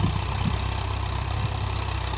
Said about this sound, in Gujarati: જો ખાતર નાખે ટ્રેક્ટર હાલે